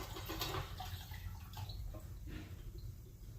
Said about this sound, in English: And let's just pour it all in